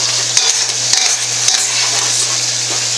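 Spaghetti with garlic cooking in a pan, a continuous close sizzle with scattered stirring scrapes and clicks of a utensil against the pan.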